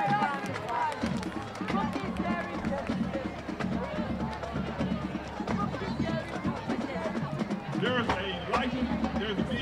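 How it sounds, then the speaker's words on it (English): A stadium crowd at a high school football game between the Georgetown Eagles and Manor Mustangs claps and cheers in a dense, continuous wash, with chatter and a public-address voice running over it. "Let's give him a round of applause as well."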